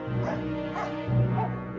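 A dog close by giving short whining barks and whimpers, two clear yelping bursts in quick succession.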